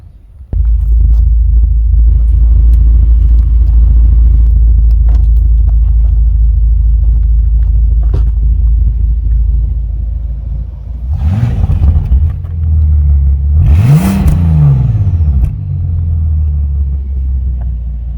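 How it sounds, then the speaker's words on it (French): A Bentley Continental GT with a 6.0-litre W12 biturbo engine rumbles at a loud, close, steady idle, then revs up twice, each rev rising and falling in a deep roar. "W12 6 litres biturbo."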